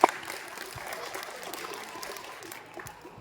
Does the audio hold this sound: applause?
yes